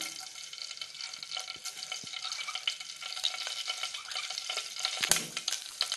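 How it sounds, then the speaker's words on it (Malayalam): Sharp crackling and popping as mustard seeds splutter in hot oil, a dense, continuous sizzle close by with occasional louder snaps. "കടുക് പൊട്ടിക്കാൻ"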